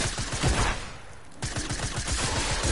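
Rapid bursts of video-game gunfire crackle loudly in quick volleys, pausing briefly before another dense string of shots rattles on, with no voices over it.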